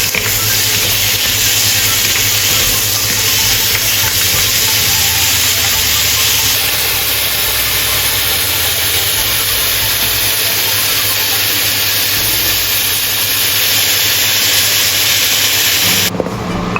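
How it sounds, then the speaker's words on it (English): Celery leaves and cashew nuts are stir-fried in a hot wok, a loud continuous hiss and sizzle that stays steady and close throughout, with no voices. "Add cashew nuts and stir-fry evenly."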